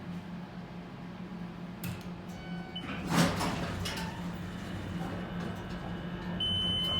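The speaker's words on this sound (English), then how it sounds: "Door close button works." A door on a roped-hydraulic elevator slides shut after its close button is pressed, a soft mechanical rumble and swoosh with a hum from the car underneath and a faint thud midway.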